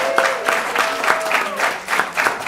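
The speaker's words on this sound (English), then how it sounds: "Let's give them a round of applause." Round of applause at a North Augusta, South Carolina city council meeting, steady clapping from a room of people with rhythmic pulses and some voices mixed in, fairly close and moderately loud.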